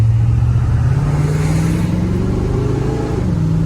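A 1975 Chevrolet Corvette's engine accelerates while driving, a loud, close, continuous drone rising steadily in pitch, then easing slightly near the end.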